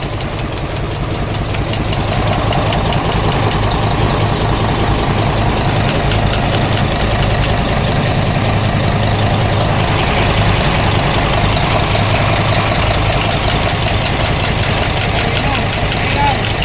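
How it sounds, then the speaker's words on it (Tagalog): A vehicle engine that drew in water idles with a rough, rhythmic knocking clatter, steady and close throughout, with people's voices faintly mixed in. "Kalatik-kalatik pa yung makina."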